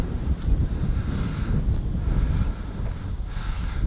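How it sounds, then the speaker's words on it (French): Wind buffeting an action camera's microphone outdoors in the evening, a steady loud rumbling roar with gusty swells and no talking. "Le vent se lève."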